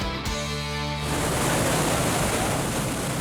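Ocean waves surge around a nuclear warship at sea, a loud, broad rushing wash that swells in after a brief tonal sound at the start and stays dense and steady.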